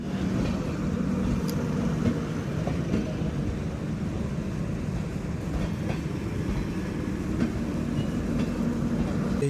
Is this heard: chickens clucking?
no